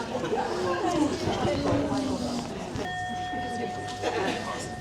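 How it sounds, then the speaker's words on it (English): A bell rung once in a grief and wonder group gathering, its clear sustained tone ringing out partway through over the murmur of many people chatting and milling about. "I'll ring a bell before we start."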